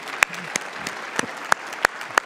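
Sparse clapping in a church Sunday service audience, a handful of distinct loud claps spaced irregularly over a soft background murmur.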